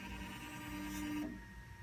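Zeus 3D printer running while its print head heats up, a quiet steady mechanical hum with a brief rising whine near the middle that cuts off abruptly, leaving a softer drone.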